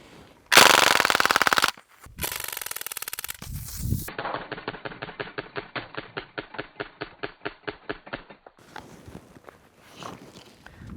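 Crosman R1 full-auto blowback CO2 BB rifle (4.5 mm) firing, with a loud sustained burst, a pause, then a long string of rapid evenly spaced shots, close and dry, ending in quieter rustling.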